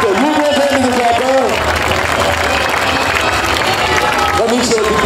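Crowd at a knights' tournament bursting into sustained applause and cheering, loud and close, with voices calling out over the clapping throughout.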